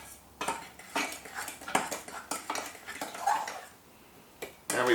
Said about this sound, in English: Stir the egg around.